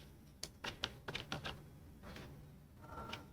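Keys on a computer keyboard tapped in a short irregular burst of crisp clicks, then a pause and a few softer strokes, close and fairly quiet with no talk.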